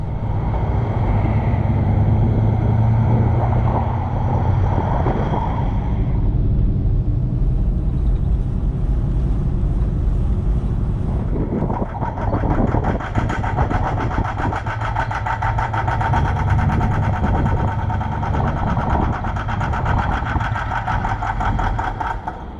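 A car engine runs and idles with a steady, loud low rumble that dips and shifts in the middle before settling back into a constant idle with a fine ticking texture.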